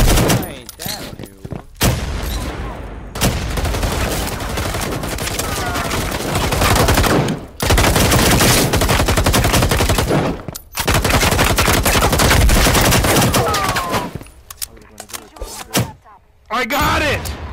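Rapid gunfire in a shooter video game, loud bursts of automatic fire packed densely with short breaks, and people talking over it.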